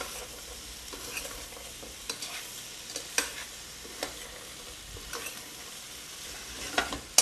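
Toasted walnuts with carrots are stirred in a hot pan, a soft continuous sizzle with repeated scraping strokes of the spoon, close and fairly quiet.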